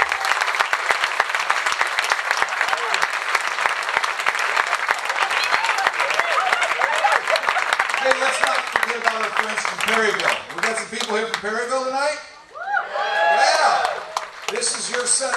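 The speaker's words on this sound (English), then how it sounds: "Give him a round of applause here." Loud crowd applause at a banquet auction after an item sells, sustained clapping for several seconds that thins out as voices and talk take over near the end.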